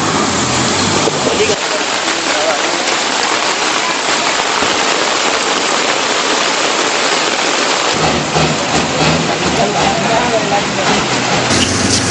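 Heavy rain pours down during flooding in Ratnapura, a loud, steady, unbroken wash of rain noise that continues throughout with no clear breaks.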